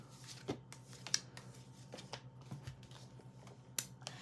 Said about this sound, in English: Let me just give these cards a good shuffle.